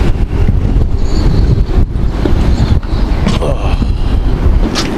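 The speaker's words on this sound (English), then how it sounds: "Sounds like we're in a wind tunnel inside here." Strong 60 mph wind buffets a boat, a loud continuous low roar and rumble with gusty surges and faint creaks, heard from inside the cabin with no talk.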